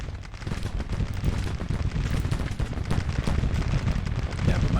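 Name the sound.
musket fire in Grand Tactician: The Civil War video game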